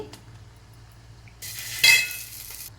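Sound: tempering being added to sambar, sizzling

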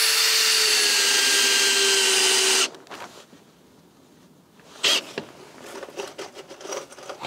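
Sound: power tool bolting down wooden roof planks

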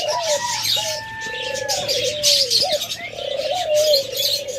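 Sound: doves cooing in cage

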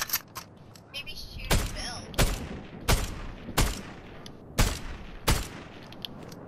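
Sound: gunfire from a gun in the video game Fortnite

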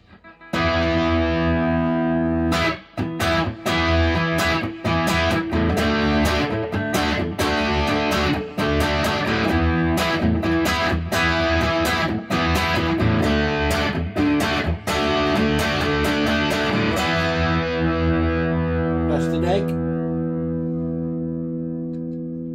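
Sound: Gibson Baldwin Les Paul electric guitar played with distortion

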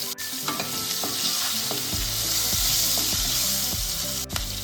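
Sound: sizzling tempering with curry leaves, garlic and green chilli

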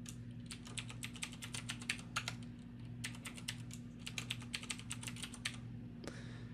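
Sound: typing a database password on a keyboard

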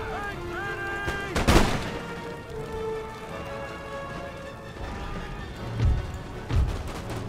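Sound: musket and artillery volley fire in video game Empire: Total War

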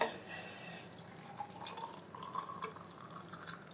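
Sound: boiled liquid being strained into a vessel

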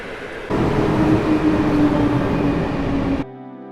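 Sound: Intercity train passing at Warszawa Zachodnia

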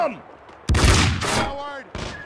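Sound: gunfire in Max Payne 2 video game

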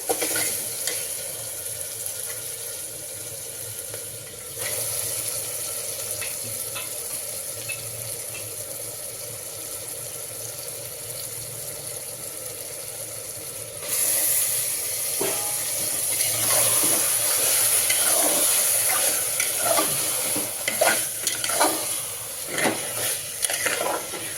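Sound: stirring and frying washed mutton with sautéed ingredients

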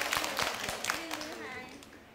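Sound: students clapping for themselves in class

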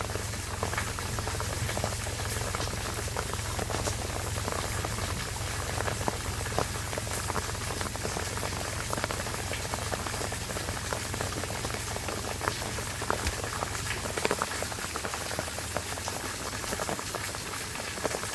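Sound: rain and rushing floodwater

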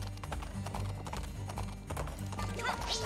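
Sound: horse clip-clop hooves in Princess Peach Showtime video game

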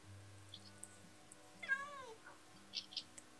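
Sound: cats meowing in Minecraft video game

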